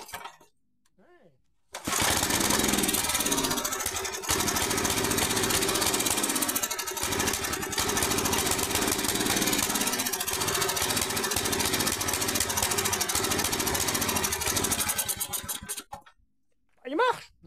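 Granja GB600 tiller with a Briggs engine, idle for 15 years, restarting and then running as a loud, steady chugging roar for about fourteen seconds before shutting off. Brief voices come just before and after.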